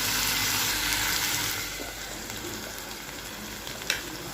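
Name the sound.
tomatoes sautéing in a covered pan for dry fish gravy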